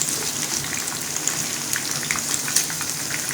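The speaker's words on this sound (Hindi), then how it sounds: "ये देखें, ये चिकन फ्राई हो गया है।" Chicken pieces frying in hot oil in a pan over low heat for chicken Manchurian give a steady close sizzle and crackle, with scattered small pops throughout and no talking.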